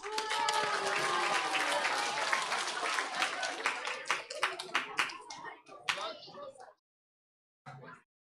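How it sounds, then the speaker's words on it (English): An audience applauds the readers at a World Book Day event, with dense clapping that thins into scattered individual claps before falling silent, followed by a brief sound. "Please give a round of applause to Marco"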